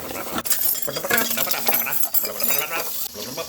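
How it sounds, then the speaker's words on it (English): Dishes are slammed and clinked roughly in a kitchen sink, a dense run of sharp ceramic and metal clatters and ringing knocks, loud and close, with a faint voice underneath. "Make sure you're slamming the dishes"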